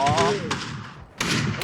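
Shotgun blasts in a first-person shooter video game: two sharp booming shots about a second apart, each with a decaying tail, with excited talk over the first.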